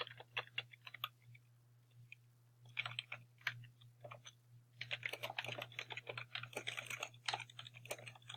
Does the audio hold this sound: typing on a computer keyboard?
yes